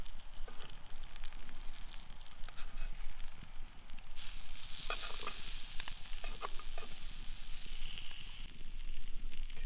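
Wild mushrooms fry in a pan with a steady, close sizzle and crackle, broken by occasional scrapes and stirs as they are turned.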